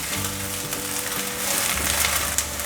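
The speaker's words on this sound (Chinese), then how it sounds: "现在放入香菇， 把香菇炒香" Shiitake mushrooms stir-fry in a hot pan with sliced ginger, a loud close sizzle with crackling spatter and brief scraping from stirring, with background music underneath.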